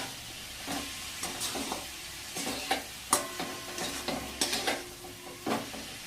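A spoon stirs a thick coconut barfi mixture with cardamom in a pan, scraping and scuffing in a steady rhythm over a soft sizzle, close and moderately loud with no talking.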